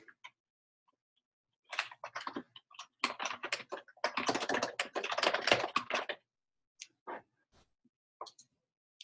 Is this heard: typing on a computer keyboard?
yes